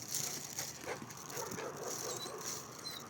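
A guard dog in a large dark yard at night gives soft whimpers and short yips amid faint pattering movement, with low background noise and no clear voices.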